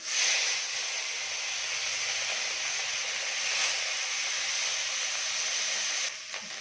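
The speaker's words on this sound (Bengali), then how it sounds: "এবারে আমি নুন হলুদ দিয়ে যে মৌরলা মাছটা মেখে রেখেছিলাম এটা কড়ার মধ্যে দিয়ে দিলাম" Mourala fish rubbed with salt and turmeric dropped into hot oil in a wok, a loud, sustained close hiss of frying that holds steady for several seconds before easing slightly at the end.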